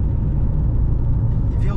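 A diesel car engine labors up a hill with a close, low, steady drone heard from inside the vehicle, under a person talking.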